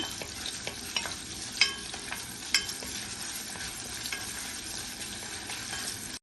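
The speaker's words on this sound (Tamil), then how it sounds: "நல்ல வெங்காயம் பொன்னிறமா வதங்கி வரட்டுங்க." Steady sizzling of onions frying in a pan, with a couple of sharp clinks from stirring against the metal.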